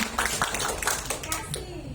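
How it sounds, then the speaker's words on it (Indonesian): Wedding guests clapping at a reception in a Marriott ballroom, a steady patter of many hands with a host's voice and chatter over it. "Ayo Bandung, tepuk tangan dulu nih."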